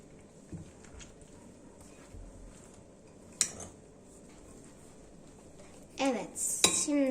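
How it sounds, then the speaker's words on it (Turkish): A spoon stirs a black rice salad in a bowl, making quiet scraping with a few sharp clinks against the dish, and a voice briefly joins near the end. "şimdi güzelce karıştıracağız"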